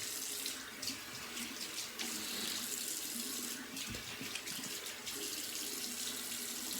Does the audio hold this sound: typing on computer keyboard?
no